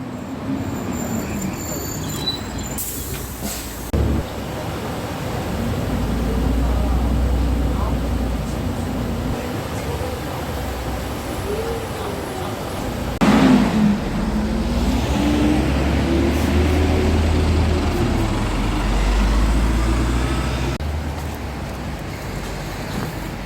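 Riding a city bus through Chuncheon, a steady engine and road rumble drones throughout, swelling and easing with the bus's movement, with a few sharp thumps and rattles.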